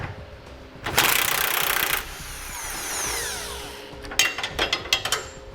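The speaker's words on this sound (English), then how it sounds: "if you put a 21mm wrench on the bolt head," A wrench works the 21mm nut off a bolt on the frame rail of a 2018 Chevrolet Silverado while a Curt trailer hitch receiver is fitted, with a dense one-second burst of metallic tool noise followed by a run of sharp ratcheting clicks.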